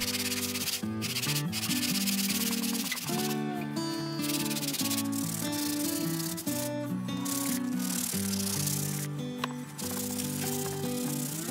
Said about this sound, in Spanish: Utilizamos una lija para madera y de paso aprovechamos para lijar toda la